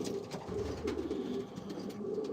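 A pigeon in a breeder loft coos softly, low and murmuring, with faint rustles and a steady background hum, quiet and somewhat distant, no voices.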